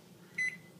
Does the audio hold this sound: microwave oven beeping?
yes